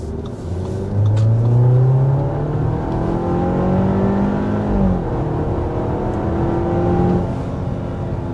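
A 2025 Audi Q7 with a 2-liter turbocharged four-cylinder pulls hard to 60 mph, its engine note climbing through rising tones and shifting gears, loud and close from start to finish without talk.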